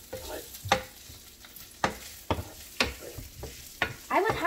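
Johnsonville sausages being stirred in a frying pan, a steady low sizzle broken by several sharp scraping and clattering strikes of a utensil against the pan at irregular intervals, close and fairly loud.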